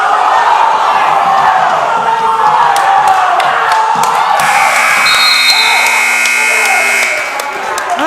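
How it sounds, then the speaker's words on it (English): Crowd at a high school wrestling match between Titusville and Saegertown cheering and shouting, a loud, sustained roar filling the gym with a whistle-like tone rising midway. "I brought the crowd a little bit to life here. There's your noise."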